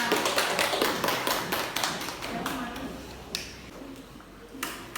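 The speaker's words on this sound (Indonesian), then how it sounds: "Beri tepuk tangan untuk kelompok 2." A classroom of students claps for a presenting group during a microteaching lesson, a burst of fairly quick, distinct claps that thins into a few scattered ones, moderately close, with faint voices in the background.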